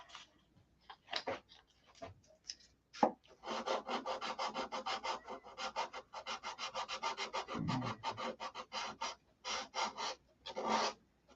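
Rhythmic back-and-forth rasping strokes of sanding wood on a Sig Magnum model airplane, close and fairly steady, in bursts with brief pauses between runs and a few isolated scrapes at the start.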